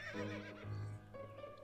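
Neighing horse in the video game To The Moon: a short whinny, moderately loud, over a low game soundscape with no talking.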